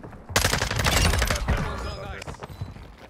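Rapid bursts of video game gunfire in Warzone Resurgence, a loud, dense fusillade of overlapping shots lasting a couple of seconds before thinning into scattered fainter shots, with a voice reacting underneath.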